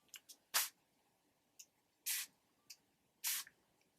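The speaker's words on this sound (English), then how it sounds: "I could spray it again over top of this." Several short bursts of ink spray hiss onto paper in an uneven rhythm, some longer than others, with small clicks of a trigger between them in a quiet room.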